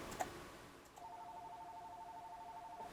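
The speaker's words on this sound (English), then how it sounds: "Ooh, phone's ringing." A telephone rings with a steady two-tone electronic ring, faint and continuous, after a brief click in a quiet room.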